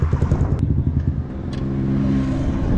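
A motorcycle engine revs through its exhaust, with sharp throttle blips giving way to a sustained rising roar close by, with no voices.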